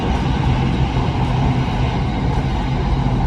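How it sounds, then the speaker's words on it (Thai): An electric commuter train on Bangkok's SRT Red Line runs steadily, giving a loud, continuous rumble and rushing noise from inside the carriage, with no voices. "รถไฟกำลังจะถึงสถานีการเคหะนะครับ"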